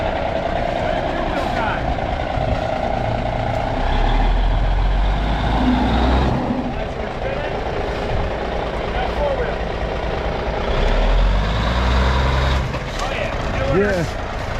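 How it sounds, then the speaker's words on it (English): A bobbed M923 5-ton military truck drives in four-wheel drive with the low-range transfer case engaged, its diesel engine rumbling steadily and close, rising in two heavier surges, with some voices nearby. "This will be a good place to try out the four-wheel drive and the low-range transfer case."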